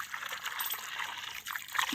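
Water trickles and splashes steadily as it is poured into a farm spray pump before testing, soft and close with no talk.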